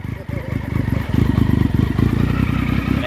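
Triumph motorcycle engine idling after a repair, a rapid, lumpy, pulsing exhaust beat at close range that stays loud and steady throughout.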